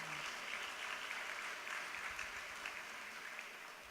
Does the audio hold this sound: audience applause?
yes